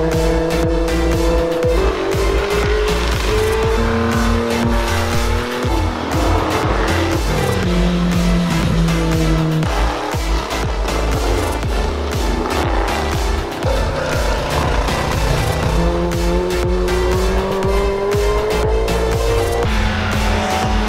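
Classic race cars at the Arosa hill race roar past close by one after another, engines climbing and shifting with occasional tire squeal, a continuous loud trackside din with no talking.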